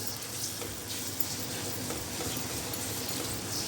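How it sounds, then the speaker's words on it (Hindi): Marinated chicken frying in a pan, a steady close sizzle with faint stirring scrapes running throughout, no voices. "और इसको अच्छी तरह से इसमें भून लेंगे।"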